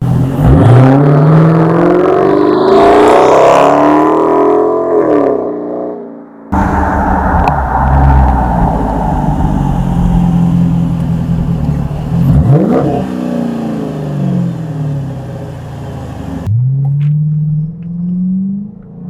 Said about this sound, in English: The Hemi engine is running like it should.